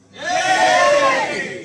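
A convention audience at a sci-fi weekender cheers and whoops loudly, the crowd noise swelling quickly and holding steady for more than a second before beginning to fade.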